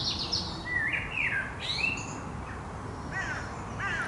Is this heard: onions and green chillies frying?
no